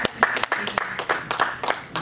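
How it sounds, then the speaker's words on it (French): A church congregation claps in quick, sharp, irregular bursts, close and loud, with voices mixed in among the hands. "Acclamons pour notre sœur."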